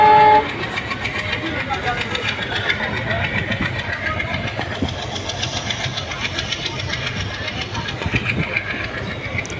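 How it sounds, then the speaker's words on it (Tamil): Loud, continuous rumble and clatter of a moving diesel locomotive train with a steady engine drone, heard from on board between Dharmapuri and Salem, India, with voices faintly mixed in. "டீசல் இன்ஜின் ட்ரெயின் இது."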